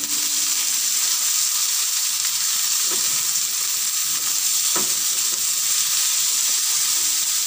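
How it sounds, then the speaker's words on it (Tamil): Onion, chilli, carrot, cabbage and leeks sautéing in a pan for Sri Lankan kottu, a steady close sizzle and hiss with a few scraping stirs of a utensil, no voices. "இப்போ இது கொஞ்சத்தை வதக்கிட்டு கேரட், கோவா, லீக்ஸ் இதை சேர்த்துட்டு நான் வந்து கொஞ்சம் வதக்கி கொள்கிறேன்."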